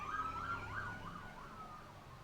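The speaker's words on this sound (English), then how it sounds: "Uh-oh. Sirens, they're coming for me." A sheriff's police siren wails in a video game, its rising and falling tone steady and fairly faint over a low rumble of engine noise, with no talking.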